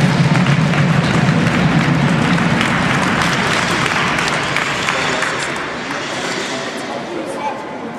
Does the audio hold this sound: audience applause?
yes